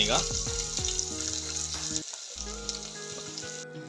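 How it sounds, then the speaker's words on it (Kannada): Field beans (avarekalu) with turmeric fry in a pan with a steady, close sizzle and occasional stirring scrapes; one brief word is spoken. "ಸ್ವಲ್ಪ ಅವರೆಕಾಳು ಹಾಕಿದ್ದೀನಿ. ಚೆನ್ನಾಗಿ ಫ್ರೈ ಆಗ್ತದೆ."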